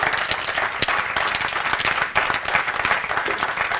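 A talk audience breaks into loud, continuous applause, thick overlapping claps with some close sharp ones and a hint of crowd voices, holding steady throughout.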